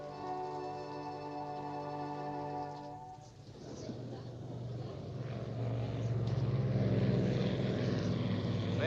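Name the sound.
propeller airliner at an airport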